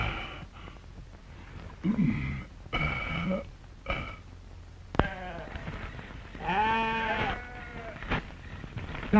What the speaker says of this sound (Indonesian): Dari tadi kambing kita ngebek terus.